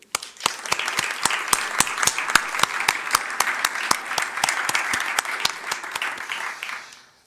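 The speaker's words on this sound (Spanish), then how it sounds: "Creo que un aplauso es merecido." An audience at a project closing event claps, with distinct, evenly spaced loud claps standing out over a steady bed of many hands, continuing without pause before fading out at the end.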